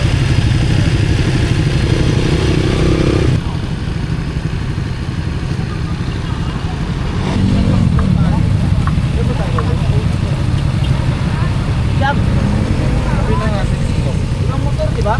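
A motorcycle engine runs steadily throughout near the Calabasa River in Gabaldon, Nueva Ecija, with clattering mechanical noise, a brief dip in level, and people talking intermittently over it.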